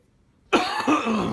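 A single harsh cough bursts out close after silence, followed by a second rougher cough.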